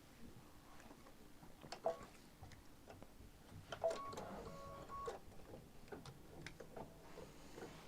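Embroidery machine stitching out a stippling fill design, a quiet, steady mechanical ticking and patter running continuously at low level, with no talk.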